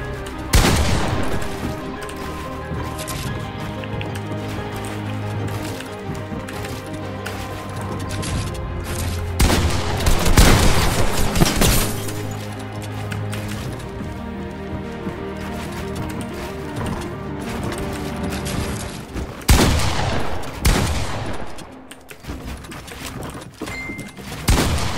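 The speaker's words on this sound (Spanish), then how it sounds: "Hice mierda con el fusil. Después del pinche balazo de escopeta." Rifle and shotgun fire from a Fortnite match: loud bursts and rapid volleys of shots with crashing impacts, heaviest around the middle and again near the end, over a continuous game soundscape.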